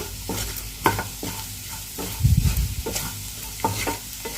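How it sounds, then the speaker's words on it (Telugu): Spicy onion karam, a red chili and onion mix for an egg dish, frying in a pan while a spatula stirs it. A steady sizzle runs under scraping stir strokes, with a louder burst of stirring midway. "ఇక టూ మినిట్స్ ఇలా ఫ్రై చేసుకున్నాము"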